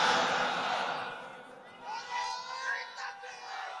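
A large crowd at an outdoor Bangladeshi sermon gathering shouts and cheers in a loud, swelling roar that fades slightly, then rises again in a few bursts.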